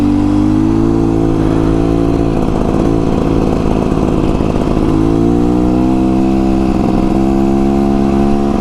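A 2024 Beta Xtrainer dirt bike on its first ride, the engine droning steadily up close with shifting pitch as the rider rolls on and off the throttle along trails, loud and continuous with no talk.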